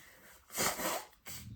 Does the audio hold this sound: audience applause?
no